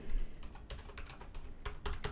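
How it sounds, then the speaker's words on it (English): Someone typing a command on a computer keyboard, a quick run of close, crisp key clicks with uneven rhythm and no talking. "let's go ahead and start aerodump"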